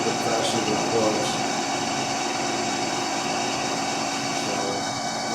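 Steady machine drone from a Haas CNC lathe spindle running a groove tool cut, a continuous even whine and hum lasting throughout with no pauses, loud and close.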